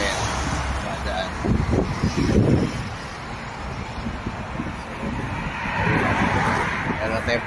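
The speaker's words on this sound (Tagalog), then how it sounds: "Madaming sasakyan." Busy roadside traffic with cars and motor vehicles passing steadily at close range, wind buffeting the microphone, and a person speaking in the foreground over the continuous road noise.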